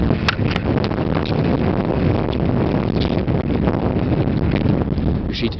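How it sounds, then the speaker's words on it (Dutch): Strong wind buffets an outdoor microphone during a winter interview in Ankeveen, a loud, continuous roaring rumble with gusty surges throughout, masking any background sound. "Want er staat een behoorlijk portie wind."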